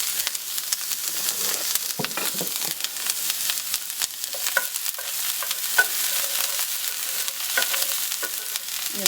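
Chopped onions sizzle steadily in hot oil in a frying pan, with scattered crackles and occasional stirring scrapes throughout, close and moderately loud with no talking.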